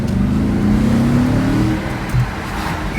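Audi RS4 engine revving up, a steady loud motor roar with a rising pitch that settles and dips near the end, heard alone close by.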